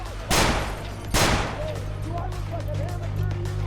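Gunfire in a John Wick-style action video game, two loud sharp shot bursts close together near the start, followed by softer game sounds and a low steady hum.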